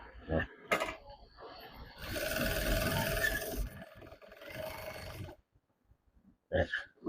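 A domestic sewing machine stitches fabric after being rethreaded, its motor whirring in a loud sustained run of about two seconds, then a shorter burst, with clicks and handling sounds around it.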